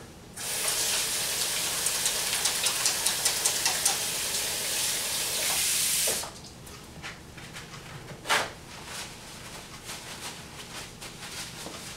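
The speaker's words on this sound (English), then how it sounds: "wash your hands with soap and water" Tap water gushing steadily into a sink during handwashing with soap, a bright close hiss that runs for about six seconds, then cuts off, leaving faint splashes and a single wet clunk.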